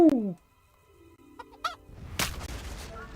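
A chicken clucks sharply and briefly up close in Kingdom Come: Deliverance, followed after a quiet pause by a heavy crashing impact and rumbling debris from a trebuchet shot.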